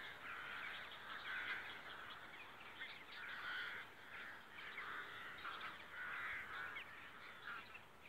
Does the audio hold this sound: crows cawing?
yes